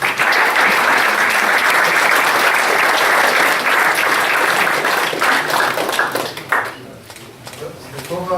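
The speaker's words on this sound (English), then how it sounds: "he deserves a bigger applause than that" An audience applauds after a talk about seed funding in Ireland and China, loud and dense clapping from a crowd that holds for several seconds and then thins out, with a voice beginning to speak near the end.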